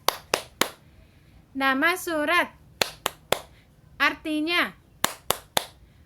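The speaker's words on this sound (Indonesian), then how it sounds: "mari kita bertepuk tangan dulu" Children clap hands in a rhythmic pattern, sharp claps in small groups alternating with a sung or chanted voice in a classroom, a religious lesson setting.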